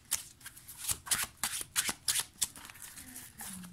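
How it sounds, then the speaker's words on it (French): Oracle cards being shuffled during a card reading, a close run of crisp riffling bursts in an uneven rhythm that tapers into softer handling at the end. "Je rajoute quelques cartes pour avoir plus de précision."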